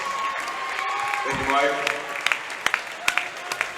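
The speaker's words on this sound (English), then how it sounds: "Let's give Mike a round of applause." Someone speaks over the PA at a varsity boys basketball game in a school gym. Scattered, separate claps then begin to pop up from the crowd as the applause for a donor gets going.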